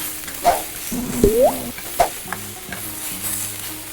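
Ginger and garlic frying in tempering oil, a steady sizzle broken by stirring scrapes and a few sharp clinks of a spoon against the pan, with no voice.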